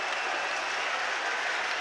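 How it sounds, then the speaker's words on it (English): A stadium crowd at a boxing match roars and cheers wildly after the decision, a dense, continuous wash of distant crowd noise with no clear voices. "Delirious reaction from the crowd."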